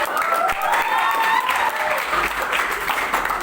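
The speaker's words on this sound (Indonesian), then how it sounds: "Tepuk tangan dong buat mereka." An audience claps for three young women, a brisk continuous round of applause with a faint voice or cheer drifting over it early on, holding strong to the end.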